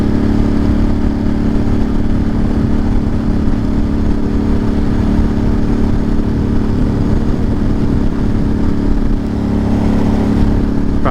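A motorcycle being ridden around Masonville, New York on a hot day gives a steady, close engine drone mixed with constant wind rush that runs without a break from start to finish, with no talking.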